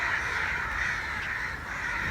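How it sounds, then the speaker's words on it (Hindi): Crows caw over a graveyard beside a railway station, a dense, steady chorus of harsh calls from many birds blending into one continuous wash of noise, with no talking. "लेकिन यहाँ पे ना कब्रिस्तान के ऊपर कौवे बहुत ज़्यादा हैं।"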